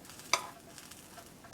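A pizza quesadilla sizzles faintly in a pan as it is flipped, with two sharp scraping clicks from the turner over a soft frying hiss.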